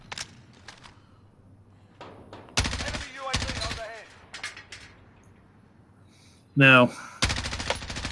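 Gunfire in an online battle-royale-style video game, several sharp bursts of automatic shots with gaps between them and one loud short blast near the end, mixed with a player talking.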